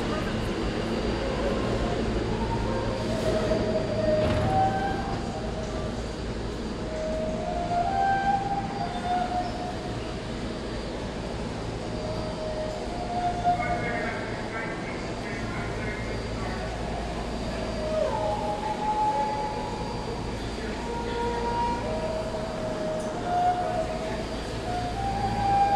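A subway shuttle train at Broadway-Lafayette, Grand Street shuttle, rumbles steadily along the track, a continuous low mechanical drone with faint squeals and hum throughout, no clear talking.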